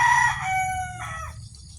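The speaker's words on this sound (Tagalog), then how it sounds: "Ayan po yung mga manok nila. Ang dami." A rooster crows once nearby, loud and drawn out, with its call trailing off at the end.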